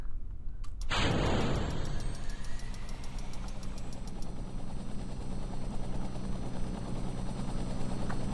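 A helicopter in Kerbal Space Program starts up with a sudden loud burst, then settles into a steady, dense rotor drone with a fast rhythmic chop that continues to the end, with no talking.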